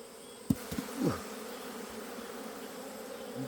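Asian honeybees buzz around a hive during swarming season, several individual bees passing close by in quick drones over a low, constant background hum, with no voices.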